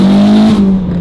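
A turbocharged Nissan S15 engine holds a loud, close revving drone at a steady pitch, dipping briefly midway before carrying on, with no voices over it.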